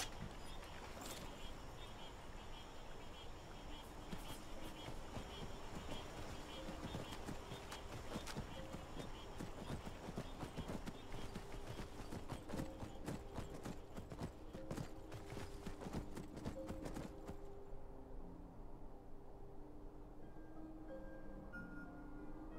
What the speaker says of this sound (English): Let's get on our horses.